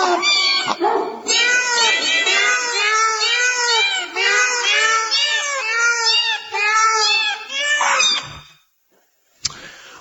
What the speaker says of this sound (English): Those are real cats.